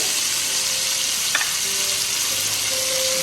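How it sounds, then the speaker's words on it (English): Tomato sauce, a whole can of Goya, hitting a hot frying pan for Puerto Rican rice with pigeon peas, giving a loud, steady, broadband sizzle that fills the clip alone. "we're gonna go ahead and start adding the tomato sauce"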